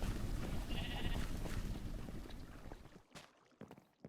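Sheep bleating in modded Minecraft, one short bleat amid a noisy ambient bed that fades out, followed by a few faint clicks.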